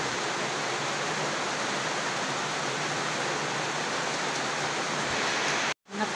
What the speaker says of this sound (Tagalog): Tingnan natin yung ulan